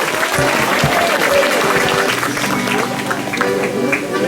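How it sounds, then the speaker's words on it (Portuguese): Congregation applauding the team at a Catholic Mass, a dense, loud round of clapping filling the church with crowd murmur and some voices mixed in. "Uma salva de palmas para essa equipe toda."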